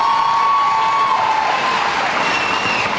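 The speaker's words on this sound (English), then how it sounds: "Let's give all of the kids a round of applause." Community meeting audience applauding young people, a dense steady wash of clapping with some cheering mixed in, loud and sustained throughout.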